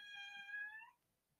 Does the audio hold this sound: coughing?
no